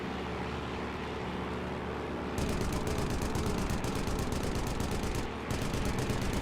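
Rapid aircraft machine gun fire from a Stuka in the World War II flight game Air Conflicts Secret Wars, steady bursts of shots over a constant engine drone, pausing briefly before resuming.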